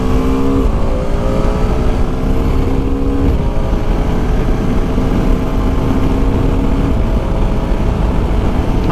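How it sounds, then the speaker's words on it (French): A BMW F 450 GS motorcycle engine is revved hard, a loud continuous roar with rising and falling tones that stays strong and close throughout. "je vais accélérer d'un coup"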